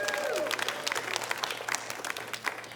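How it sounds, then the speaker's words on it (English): An audience claps during a comedy set by stand-up comic Nicole Miller, a dense patter of applause filling the room, with faint talk and a brief tonal sweep early on. "let's clap for him"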